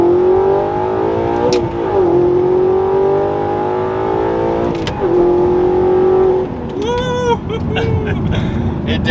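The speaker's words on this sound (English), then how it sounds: "We're going to do one last acceleration from second gear," Audi R8 with an Fi active exhaust accelerating hard from second gear with the pedal to the floor, a loud close engine roar climbing in pitch through upshifts with brief dips, and speech under it.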